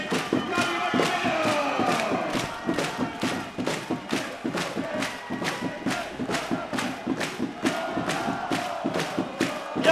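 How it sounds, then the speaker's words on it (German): A large crowd cheers and roars steadily at a German wrestling league final, with rhythmic claps or stamps pounding throughout, loud and sustained. "Jubel im Schipperstadter Eck natürlich, ist doch ganz klar"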